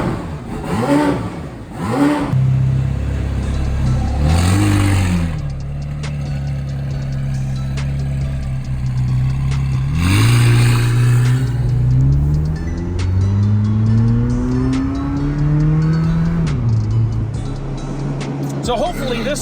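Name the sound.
McLaren 720S engine revving on test drive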